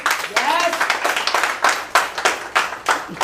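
An audience claps at a company business presentation in a dense, steady burst lasting about three seconds, fairly close and loud, with a voice speaking over it.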